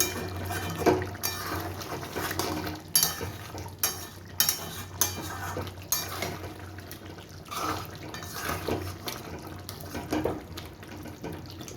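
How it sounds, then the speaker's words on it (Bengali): Kitchen sounds over a pot of chicken cooking in its own juices: clinks of a metal lid and utensils against the pot, with watery splashing and dripping throughout, irregular and close. "পাঁচ মিনিট পরে আমি ঢাকনিটা খুলে দেখাচ্ছি"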